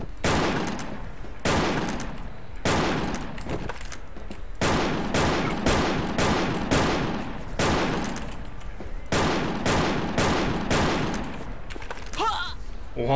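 Rapid bursts of gunfire in a shooter video game, a dense run of loud repeated shots in quick volleys, some sustained like automatic fire, continuing for several seconds and ending in a short scatter of softer effects.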